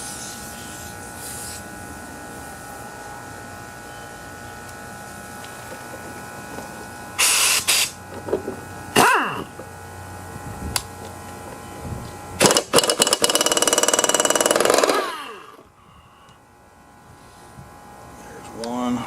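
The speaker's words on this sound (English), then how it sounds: "my compressor turns back on" An air compressor hums steadily, then bursts of hissing air from leaking lines cut in and out before the machine drops away near the end.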